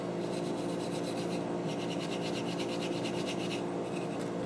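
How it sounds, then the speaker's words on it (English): Fine 4/0 steel wool rubbed over wooden AK stock pieces, giving a close, continuous scratchy rasp with quicker back-and-forth strokes through the middle, no voices. "I'm just gonna do a light sanding on the pieces just to make sure they're nice and smooth"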